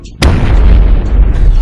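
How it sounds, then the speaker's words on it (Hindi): A firecracker bursts with a sudden sharp bang, followed by a loud, sustained rumbling roar in a Diwali comedy scene. "अरे काला कद्दू ये कैसा आलू बम था, इससे इतना आग निकला"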